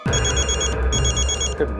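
A telephone rings for an incoming call in a household sitcom scene, a fast electronic trill repeating in two short bursts, clear and close.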